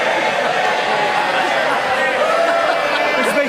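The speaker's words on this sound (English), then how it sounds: "I don't know why members are cheering" Members of parliament in the House of Commons chamber send up a dense, sustained roar of cheering and crowd chatter, loud and unbroken throughout with no single voice standing out.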